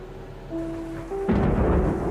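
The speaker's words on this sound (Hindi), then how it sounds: "बारिश की बूंदें खिड़की पर टपक रही थीं" Rain and thunder effect for a Hindi audio drama set on a dark rainy night: a few soft sustained tones first, then a loud, deep crash of thunder that rolls on over heavy rain to the end.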